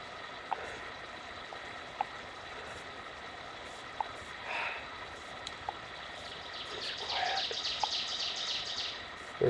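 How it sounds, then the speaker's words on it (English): Faint birdsong carries across a quiet lakeside scene in spring in the Boundary Waters, with scattered chirps and brief trills over a soft, steady ambient hiss, with a distant mechanical beep recurring at regular intervals. "Birds singing, but nothing much anything else going on."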